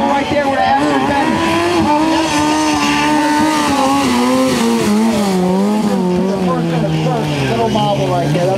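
A freestyle motorcycle holds a low death spin at a trick show, its engine droning loud and steady with wavering pitch throughout, no pauses, close and dominant.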